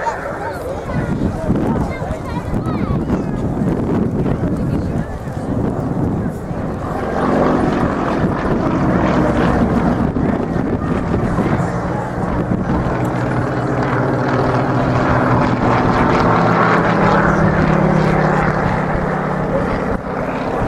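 An aircraft flies at the RAF Cosford air show, its engine a loud, steady drone that swells slightly midway and persists for the full stretch while people talk over it.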